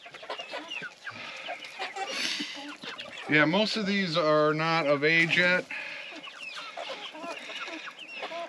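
Olive egger hens and a rooster cluck and call in a coop, close and fairly loud, with a person talking over them.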